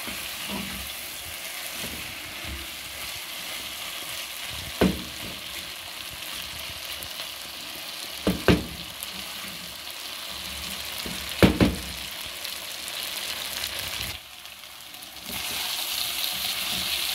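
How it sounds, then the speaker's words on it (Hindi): Chicken frying in a pan for a chicken roll, a steady loud sizzle with a few sharp stirring knocks, briefly dipping quieter before the hiss resumes. "चिकन गल गई है, अभी हम इसको 1-2 मिनट भूनते हैं।"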